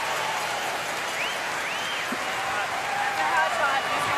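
A curling arena crowd cheers and applauds after a brilliant shot, a broad wash of clapping and raised voices with a commentator's voice running over it, sustained and moderately loud.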